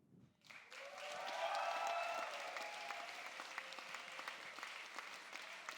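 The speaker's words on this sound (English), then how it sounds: "a massive, massive, massive round of applause for our amazing tech team" A school cabaret audience bursts into applause, a dense wash of clapping that swells quickly and then holds steady, gradually thinning toward the end.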